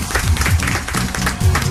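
An audience aboard a yacht at a music awards event applauds for a rapper, giving a short burst of dense clapping with some crowd noise mixed in.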